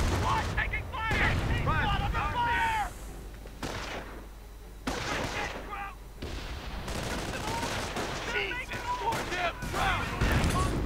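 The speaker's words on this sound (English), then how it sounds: "Well, except for the Nebelwerfer, screaming away with its rockets" Nebelwerfer rockets and gunfire in a World War II strategy game battle, dense rumbling explosions and bursts of fire under frequent shouted voices.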